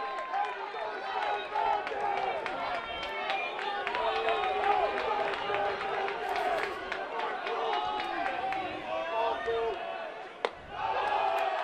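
A baseball stadium crowd at a Division III College World Series game keeps up a steady roar of cheering and shouting, heard under a commentator's play-by-play talk.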